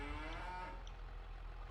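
Cattle lowing on a Farming Simulator 25 farm, a long drawn-out moo with steady mid-distance tone over a low ambient hum, no talk.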